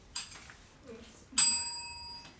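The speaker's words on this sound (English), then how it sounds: "A single warning bell will sound 1 minute before the speaking time." A single bright warning bell ring at a debate competition chimes close by and fades out slowly, with a few faint knocks and rustles before it.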